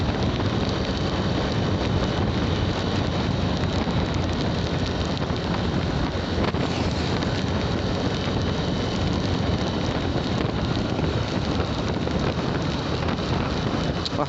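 Heavy rain and rushing wind mix with the steady roar of a motorcycle ride in a loud, unbroken wash of noise that persists without pause and has no clear voices.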